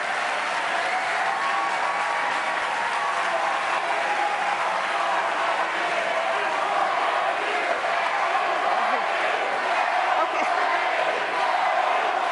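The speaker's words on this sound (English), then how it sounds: "We're going to ask the audience to give you one more round of applause because they seem to enjoy that." A debate audience applauds the candidates in a Louisiana governor debate, sustained dense clapping with a few cheers and whoops, steady and loud for about twelve seconds.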